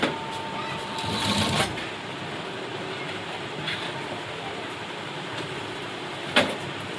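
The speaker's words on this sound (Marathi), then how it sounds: "ही पट्टी यावरती अशी ठेवत मी शिलाई देऊन घेतली" A sewing machine stitches a piping strip onto a garment neckline, running in a continuous close whir with a brief louder burst near the start and a short clatter toward the end.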